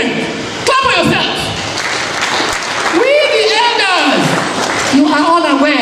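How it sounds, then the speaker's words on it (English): A crowd at a Nigerian political gathering of the Obidient movement applauds loudly, and voices shout and cheer over the steady clapping throughout. "Clap for yourself."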